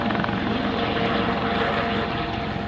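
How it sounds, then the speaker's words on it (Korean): A Seoul fire department rescue helicopter flies over Dobongsan mountain near Jaunbong peak, its steady, loud rotor and engine roar filling the air without a break. "서울 소방서에서 헬기를 띄워서"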